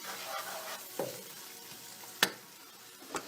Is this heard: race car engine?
no